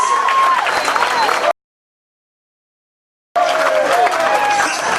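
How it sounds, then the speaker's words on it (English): An auction audience bursts into applause and cheering after a winning bid, a dense roar of clapping that cuts out abruptly to silence midway and then resumes just as loud. "A round of applause."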